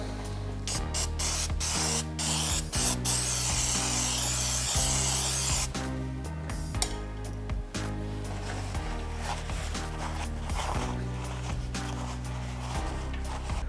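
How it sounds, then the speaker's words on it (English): Brake cleaner sprayed into the crankcase cavity of a Yamaha YZ250 motorcycle, a loud, steady hiss running almost continuously with brief pauses and some rubbing and scraping noises, close to the microphone. "we're going to use some brake clean just to clean this cavity inside here"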